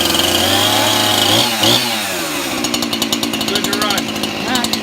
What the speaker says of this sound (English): You choke it right out, pull it over, fires up, push the choke halfway in.